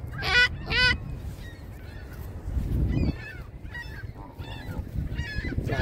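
Several ducks at a park pond in Montreal's Angrignon Park honk and quack loudly in bursts, some calls close and harsh, others farther off, over a steady outdoor background.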